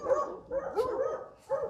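Cattle working dogs barking on a livestock loading yard, a quick series of moderately close barks with short gaps, one brief pause before a final bark.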